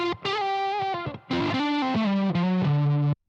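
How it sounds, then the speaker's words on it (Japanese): Electric guitar played through a Clean Octave Blend octave fuzz pedal, giving a fat, creamy fuzz with an added octave; a few sustained notes and chord changes ring out loud and close, then cut to silence. "クリーンオクターブブレンドはですね、ファットな、 クリーミーな感じの、オクターブファズになります。"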